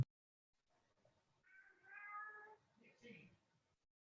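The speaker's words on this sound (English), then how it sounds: "is that your cat again? Can you hear her?" A pet cat meows a few times from nearby during an online town finance meeting, the short calls faint against an otherwise quiet background.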